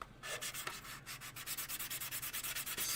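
Hand sanding with 400 grit paper along a seam on a Type 45 destroyer scale model makes quick, rhythmic back-and-forth rasping strokes, close and steady, with no talk.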